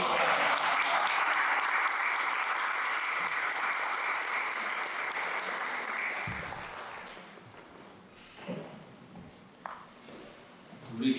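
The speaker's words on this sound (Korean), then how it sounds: "가르쳐주신 우리 이상범 목사님께 우리 다시 한번 큰 박수로" A church congregation gives a dense, loud round of applause after a special lecture on Bible meditation; the clapping holds steady for about six seconds, then thins and fades while a voice speaks.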